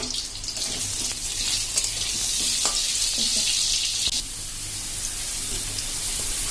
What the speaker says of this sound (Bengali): ওই তেলের মধ্যেই আলুগুলো লাল লাল করে ভেজে তুলে নেব।